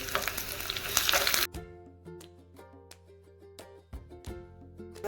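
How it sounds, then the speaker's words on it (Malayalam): Shallots, green chili and curry leaves hit hot coconut oil for a Kerala-style mango curry tempering, giving a loud, dense burst of sizzling that quickly drops to a quieter crackle with scattered pops and a few clinks. "ഇനി താളിക്കാനായിട്ട് ഇതിലേക്ക് വെളിച്ചെണ്ണ ഒഴിക്കാം."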